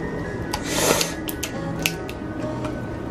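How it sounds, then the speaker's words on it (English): Kitchen scissors snapping through the shell of fried king crab, a series of sharp clicking cracks with one louder crunch near the middle, close and clear over low room noise. "But then that sure sound like them scissors broke, huh?"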